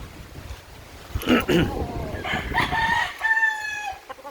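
A rooster crows at a distance amid open-air wind on a gamefowl farm, with clucking and other fowl sounds nearby.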